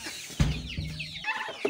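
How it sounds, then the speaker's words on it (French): Laying hens cluck and squawk at a poultry farm, several birds close by in short overlapping calls. "il y a la production des pondeuses qui est ici"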